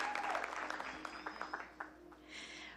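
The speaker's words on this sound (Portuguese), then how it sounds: "Você pode aplaudir a Jesus pela vida dela?" Applause from a church congregation, moderately loud and steady, with some brief voices and a faint tone mixed in before it thins out.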